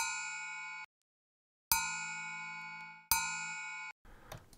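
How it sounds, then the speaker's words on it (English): A metal bell from a toy drum kit struck three times, each hit a bright, ringing clang with a long shimmering decay, close and loud, followed by a brief burst of rattly noise. "What about the bell?"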